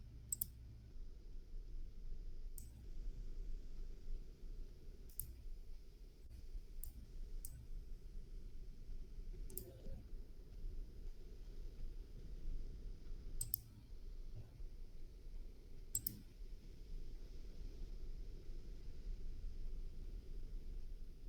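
Sharp, isolated mouse clicks at irregular intervals sound close and quiet against a faint background hiss while nanodevice simulation software is operated.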